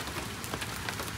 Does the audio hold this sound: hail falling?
yes